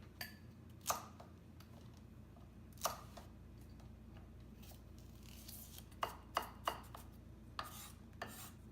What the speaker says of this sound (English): For the carrots, I coarsely chop them. And do the same thing with 2 ribs of celery.